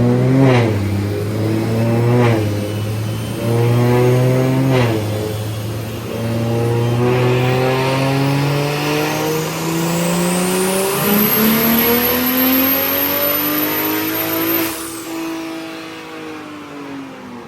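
A BMW 340i fitted with a big turbo roars on a dyno, the engine climbing through repeated gear-like pulls into a sustained loud high-rpm wail with a rising turbo whine before easing off.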